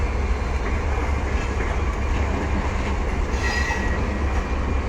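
A passenger train out of Dhaka runs on its rails with a steady, loud, close rumbling roar and faint clatter, and no pause throughout.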